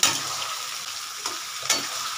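Chilli chicken fries in a hot pan, sizzling steadily up close while occasional scrapes and stirs of a utensil rise briefly above the crackle.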